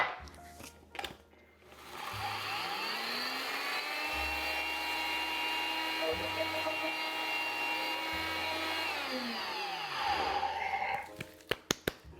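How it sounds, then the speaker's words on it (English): A blender grinds oats into flour for a gluten-free plant-based strawberry tiramisu, its motor whirring steadily and loudly for about nine seconds, with a low pulsing drone underneath, before spinning down to silence and a few sharp clicks. "We're just going to grind this up until it's a flour"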